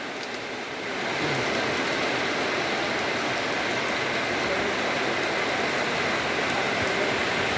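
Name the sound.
heavy rain in rural Bangladesh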